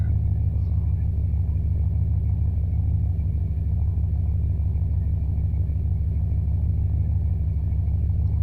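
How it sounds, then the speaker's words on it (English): A 1992 Dodge Dakota pickup with a stalling problem idles steadily up close, giving an even, unbroken low engine rumble with no stumbles throughout. "I don't hear the engine doing anything weird"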